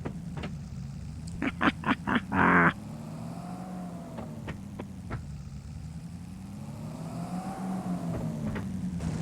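A car driving along in Farming Simulator 22: a steady, moderately loud engine hum that gently rises and falls, with a handful of sharp clicks and a short harsh burst near the start.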